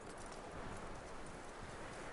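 Horse hooves clip-clop steadily on the ground in the video game Red Dead Redemption 2, a continuous close, even trotting rhythm over a dense background hiss.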